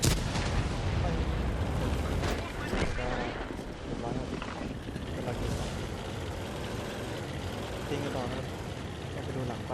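Tank cannon blasts and rumbling engine noise from World of Tanks, played in an ELC EVEN 90 light tank on the Murovanka map, form a dense, loud game soundscape with a voice talking over it.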